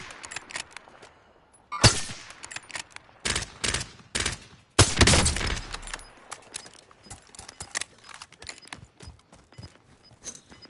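Gunfire in the Call of Duty Warzone video game on PS5: sharp loud bursts at irregular moments, a couple of heavy volleys and scattered lighter shots, with quieter gaps between.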